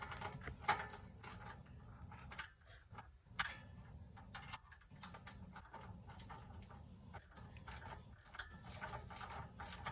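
A ratchet wrench loosens a bolt on a Troy-Bilt generator battery, its clicking pawl coming in irregular close bursts of rapid ticks with short pauses between strokes and a few louder knocks.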